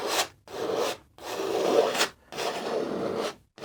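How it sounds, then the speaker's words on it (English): Repeated broad rasping strokes of a palette knife spreading dark oil paint across canvas, four long scrapes separated by brief pauses, close and steady, with no talking. "bring some of that dark down, just scrape it into your canvas"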